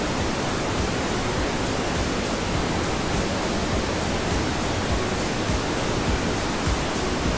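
Waterfall at Gordale Scar near Malham, a dense, constant roar of falling water close by, broadband and unbroken, with no voices.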